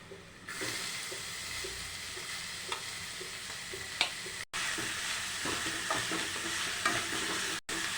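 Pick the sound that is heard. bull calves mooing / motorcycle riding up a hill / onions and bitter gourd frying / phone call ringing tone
onions and bitter gourd frying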